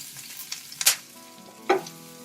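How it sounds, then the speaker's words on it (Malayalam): Crushed garlic, ginger and green chili hit cumin seeds frying in oil for paneer burji, giving a soft steady sizzle broken by two sharp bursts of spattering and clatter. "ജീരകം ജസ്റ്റ് ഒന്ന് മൂത്ത് വന്നു കഴിഞ്ഞിട്ടുണ്ടെങ്കിൽ നമുക്ക് ഇതിലേക്ക് ചതച്ച് വെച്ചിരിക്കുന്ന വെളുത്തുള്ളി, ഇഞ്ചി, പച്ചമുളക് അത് ചേർത്ത് കൊടുക്കാം."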